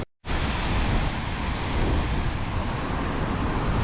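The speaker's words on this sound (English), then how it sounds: "this is the biggest waves here since we've appeared" Big storm waves pound a rocky Scottish coast, a continuous loud roar of surf mixed with heavy wind buffeting the microphone, steady throughout after a brief silent start.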